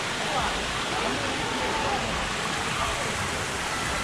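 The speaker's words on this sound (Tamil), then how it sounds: "இப்போ சீசன் டைம் போல், ஸோ தண்ணி வந்து கொட்டிகிட்டே இருக்குது" Water pours steadily at Jalagamparai Falls in Yelagiri, a continuous dense hiss of falling water heard close and alone, with no pauses.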